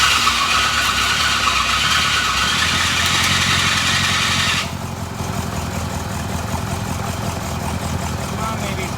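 A 1966 Cadillac Fleetwood V8 on its first start after sitting, running loud and rough with a broad steady roar that drops abruptly to a lower, quieter idle midway, heard up close outdoors.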